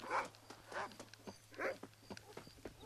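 Dog in the Red Dead Redemption video game, several short barks and yelps in quick bursts over a low steady game background hum, fairly close, with no talk.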